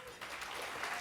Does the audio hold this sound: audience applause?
yes